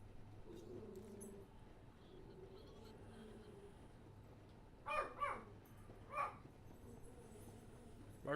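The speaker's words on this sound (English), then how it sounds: "Bark, bark." A dog gives a few short, sharp barks, two close together and then one more, over a low background hum and faint voices.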